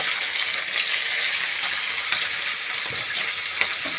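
Small puti fish fry in hot oil, giving a steady, bright sizzle with a dense crackle that holds at an even, fairly loud level, with no one speaking.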